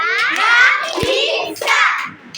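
Children in a classroom clap their hands while chanting syllables in unison, a few sharp claps mixed with young voices speaking together, close and fairly loud.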